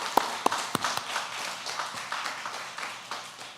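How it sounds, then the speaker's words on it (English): Audience applause at a Native Edge Institute event in New York, a crowd clapping steadily for a few seconds with a few sharp, close claps standing out at the start. "let's give a big round of applause, everybody."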